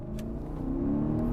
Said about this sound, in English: you still get plenty of torque, as I will now demonstrate by accelerating to highway speeds